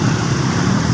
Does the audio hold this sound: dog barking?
no